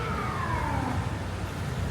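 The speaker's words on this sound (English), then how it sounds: "That's only the second siren that I've heard since I've been here" A wailing ambulance siren sweeping downward in pitch, moderately distant, over a steady rumble of traffic noise in Vietnam.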